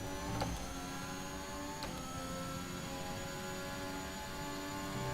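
Formula 1 car engine in the F1 2021 racing game, a sustained high-revving whine with steady tonal harmonics and a couple of brief clicks, moderately loud with no talking.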